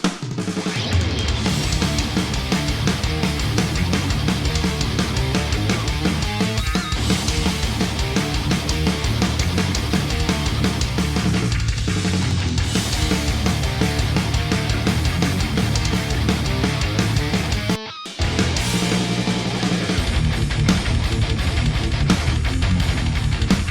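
Heavily distorted electric guitars run through Softube's Marshall JCM800 2203KK Kerry King "The Beast" amp plugin, using a Terry Date setup. A loud, dense, continuous metal riff plays with a brief dropout near the end and no voices.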